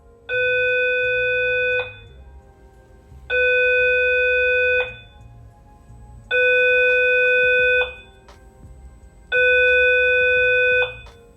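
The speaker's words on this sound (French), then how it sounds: "Une alerte en fait incendie que je vais vous mettre maintenant parce que je l'ai filmé." An apartment building fire alarm sounds in four long, steady electronic tones, each about one and a half seconds long, separated by short gaps. The alarm is loud and even, with no voices.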